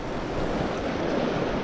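An easterly wind on the coast at night blows steadily against the microphone, a continuous broadband rush with surf-like texture, brief and without voices.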